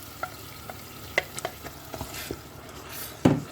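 Pureed tomatoes hit hot olive oil in a pan for homemade tomato sauce, a steady sizzle broken by several sharp ticks and spatters and a loud splashy burst near the end, close with no speech.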